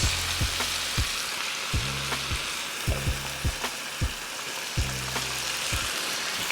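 Soy sauce and Worcestershire sauce sizzle hard in a hot steak pan, a loud, dense frying hiss broken by repeated sharp scraping knocks as the pan is stirred.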